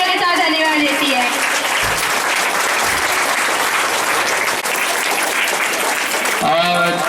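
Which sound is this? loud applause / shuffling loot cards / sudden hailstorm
loud applause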